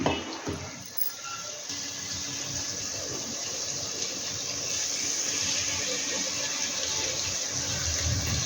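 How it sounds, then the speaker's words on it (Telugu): Tamarind extract is poured into a pot of sambar. A continuous close splashing and trickling of liquid runs steadily throughout, loud and unbroken, with no speech. "దీన్ని అయితే మంచిగా మెత్తగా పిసికి ఇట్లా ఈ రసాన్ని అందులో పోసి మరిగించుకోవాలి"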